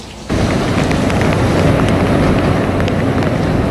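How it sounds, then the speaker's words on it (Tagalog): Typhoon Santi's howling wind surges in suddenly and roars on loud and unbroken, a broad buffeting rush with rattling tin roof sheets and heavy rain mixed in, no voices. "Umuugong na hangin, kumakalampag ng mga yero at"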